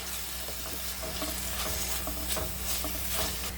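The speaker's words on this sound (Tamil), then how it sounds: "இந்த பச்சை வாசம் போகிற அளவுக்கு நல்லா வதக்கிடுங்க" Ginger, garlic and green chili sauté in hot oil with a dense, continuous sizzle, with soft rhythmic stirring scrapes running through it up close.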